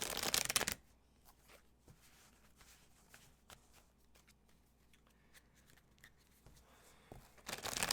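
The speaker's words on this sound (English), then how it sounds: "why can't I shuffle these, Mr. O? They're such a small deck in comparison" A small deck of tarot cards is shuffled in quick riffling bursts, loud at the start and end with softer card slides and taps between, close to the listener.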